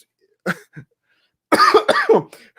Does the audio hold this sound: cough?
yes